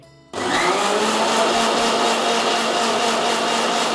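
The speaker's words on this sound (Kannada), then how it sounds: "ಈಗ ಮಿಕ್ಸಿ ಮಾಡಿ ಉಳಿದಿರೋದಕ್ಕೆ ಇನ್ನು ಸ್ವಲ್ಪ ನೀರು ಹಾಕ್ಕೊಂಡು ಮತ್ತೆ ರನ್ ಮಾಡ್ಕೊತಾ ಇದ್ದೀನಿ" A kitchen mixer grinder runs on safflower seeds and water for milk, switching on abruptly after a brief quiet moment and then whirring loudly and steadily with a high motor whine to the end.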